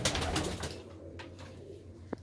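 Pigeons coo in a loft, a low, soft, rolling coo close by that fades into quieter background sound with a brief sharp tap near the end.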